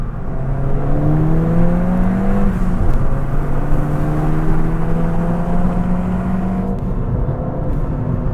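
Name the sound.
Ford Fiesta ST engine with new aftermarket exhaust, windows down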